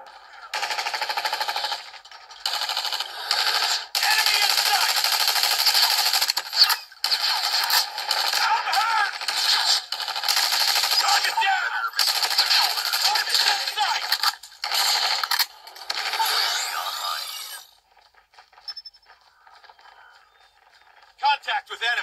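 Rapid bursts of gunfire in the mobile shooter game Call of Duty Mobile, loud and nearly continuous for about seventeen seconds with short gaps, then dropping away to quiet game ambience.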